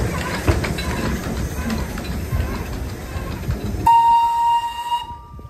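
A train passing below a viewpoint in Darjeeling: a steady broad rumble and hiss of rolling stock, then a long, loud, steady whistle tone near the end before it cuts off.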